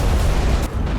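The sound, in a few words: explosion at gas storage base after drone attack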